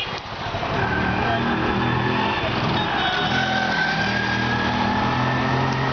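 Motorcycle engine revving loudly and continuously after a failed kick start, with a buzzy high-pitched drone that rises and holds, close by.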